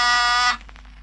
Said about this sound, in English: I hadn't expected the caller to press the buzzer.